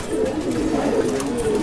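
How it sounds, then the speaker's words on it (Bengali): Pigeons of fancy breeds such as Pankhi, Bombay and Satin coo steadily in a pigeon house, a dense overlapping chorus of low throaty warbles close by, with no talking over it. "কবুতরগুলো দেখাবেন"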